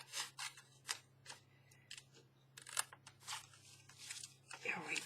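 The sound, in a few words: scissors cutting paper junk mail envelopes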